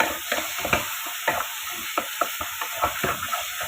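Spatula stirring mashed paneer in a frying pan, a run of irregular scraping clicks and knocks over a low, steady sizzle, close and fairly loud with no talking.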